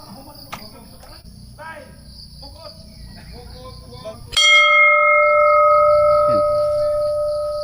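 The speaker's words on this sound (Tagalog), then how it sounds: "drop your coin, say your wish, and ring the bell" A metal bell beside a wishing well on Limasawa Island is struck once, loud and close. Its clear tone rings on and slowly decays over steady insect chirping, after earlier quiet voices and rustling.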